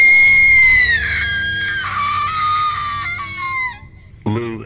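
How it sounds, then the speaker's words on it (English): A woman's scream used as a horror-story sound effect, a long shrill wail that bends downward and fades, then a second short shriek bursts in near the end, loud and close with no talk. "Jeff's mother screams at the sight of his face."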